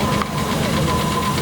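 Vintage timber contractor's vehicle from the 1920s, a big-engined working machine, running steadily close by with a low throbbing, knocking rumble for a moment, no talk.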